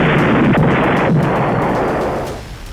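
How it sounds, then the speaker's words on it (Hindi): Missile interceptions explode in the sky over Israel as anti-ballistic missiles destroy Houthi missiles, producing a loud, sustained rumbling roar that fades away. "आसमान में हूती की मिसाइलों को इजराइल की एंटी बैलिस्टिक मिसाइल तबाह करती नजर आई।"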